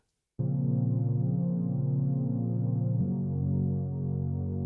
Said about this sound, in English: This is a sort of loose saw wave. Again, unison of 5, and a little bit of a detune and some reverb.